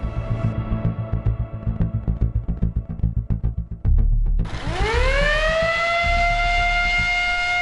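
A school wake-up siren at a cadet boarding school in Blida, Algeria, at 6 a.m.: after a throbbing rhythmic hum, a loud wailing siren rises in pitch and holds a steady howl.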